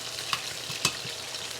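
A steak frying in beef tallow gives a soft, even sizzle close by, with two brief clicks of metal on the pan.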